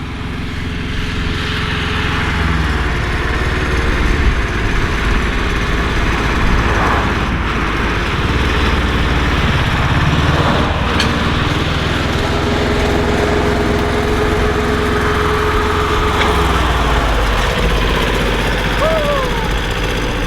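A Yanmar tractor's diesel engine runs steadily and loudly up close, a constant low rumble throughout with no pauses.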